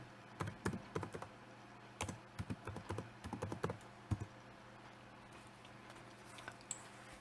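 Keys on a computer keyboard are typed close by in short irregular bursts of soft clicks, then a few isolated taps after a quiet gap.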